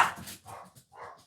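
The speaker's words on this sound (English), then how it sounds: "There's the dogs." Dogs bark in several short bursts close by, a sharp loud yelp first, then two more rounds of barking with brief gaps between them.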